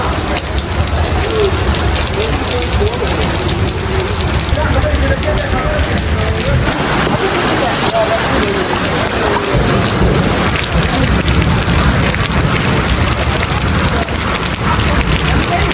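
Heavy downpour in Muzaffarabad, a dense, steady roar of rain hammering surfaces close by, unbroken for the whole stretch, with low rumbling underneath and faint voices now and then.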